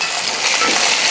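Steady dense sizzle and rustle as ingredients for Punjabi panjeri are roasted and stirred over high flame in a pan, continuous and close with no pauses.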